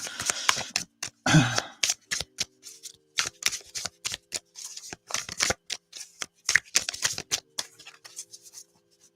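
Tarot cards are shuffled by hand in a series of quick, crisp riffles and slaps, the bursts coming in uneven clusters separated by brief pauses, close and clear with no talking.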